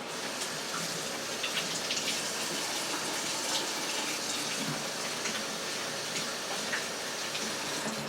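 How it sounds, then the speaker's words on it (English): Kitchen tap water runs steadily into a sink during handwashing, a constant close gush lasting throughout with no speech. "I'm going to wash my hands one more time."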